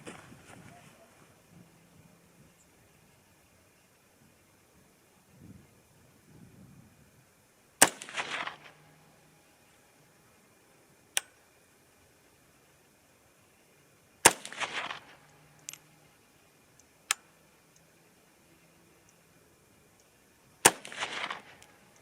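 A 6.5 Grendel rifle fires at a target outdoors: several sharp, loud reports spaced a few seconds apart, some followed by a short rumbling echo, with quiet gaps and faint background noise between shots.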